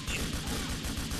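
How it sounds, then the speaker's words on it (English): Video game gunfire in GTA 4 multiplayer: a quick run of rhythmic automatic shots, evenly spaced and punchy, forming a short steady burst with no talking. "Too much shooting."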